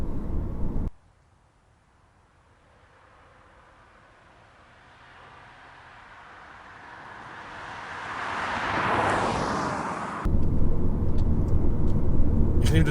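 A VW Touran family van's engine rumbles while driving, starting faint and building into a swelling, roaring pass that peaks and cuts off before steady loud road noise returns.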